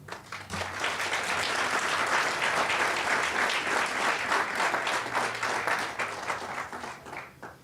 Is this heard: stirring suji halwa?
no